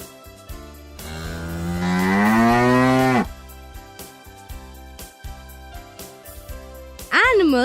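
A cow moos once, loud and close, in a long drawn-out call, over a backing of steady rhythmic music that keeps going before and after it.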